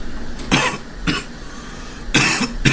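A person coughs in several loud, close bursts: a pair near the start, then a single cough, then two more near the end, with no speech between them.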